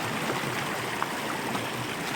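A rising creek rushes over rocks and stones in a steady, full wash of flowing water, close and continuous with no voices.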